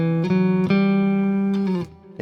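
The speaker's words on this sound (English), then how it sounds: "You may know it from its traditional sound like this." A major scale played on guitar, a short run of sustained, clearly pitched notes changing in steps, each with a soft attack, ringing out alone before trailing off.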